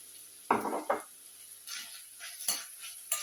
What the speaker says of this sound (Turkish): Soğan da biberle aynı kavruluyor zaten.